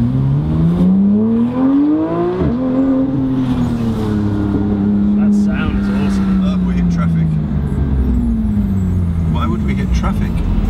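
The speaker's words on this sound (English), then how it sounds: "Traffic." Road traffic passes outside while the engine of a car being driven hums and shifts pitch up and down, with people talking throughout.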